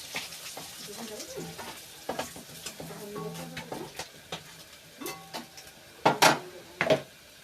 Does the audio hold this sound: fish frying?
yes